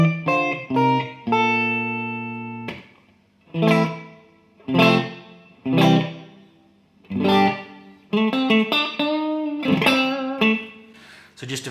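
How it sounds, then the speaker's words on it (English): Electric guitar through a Bob Burt reverb pedal set for a short slapback, small-room ambience: strummed chords and picked notes in separate bursts with pauses, each trailing a brief, tight echo, loud and close with no talking. "This next setting we're going to do a sort of short slapbacky type reverb."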